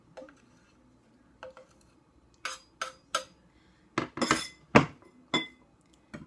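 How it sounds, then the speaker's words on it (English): A knife chops jalapeno on a cutting board in a home kitchen: a series of sharp, close taps, sparse at first and then quicker and clustered, with no talking. "chop them up a little bit more because I see some big pieces"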